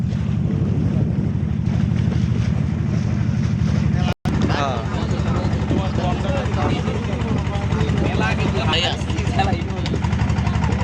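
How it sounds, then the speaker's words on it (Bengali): A fishing boat's engine drones steadily on a river as it pulls in to a sandbank, with wind buffeting the microphone and people talking over the continuous low hum. "এই চরে নামার জন্য নৌকা ভিড়াচ্ছে ওনারা"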